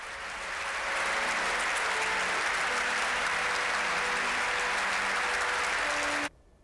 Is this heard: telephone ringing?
no